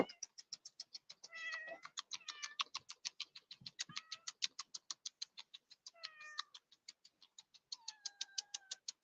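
Repeated short cat meows in a steady rhythm, close and clear, with a few longer drawn-out calls mixed in among quick, bright chirping cries, and no talking.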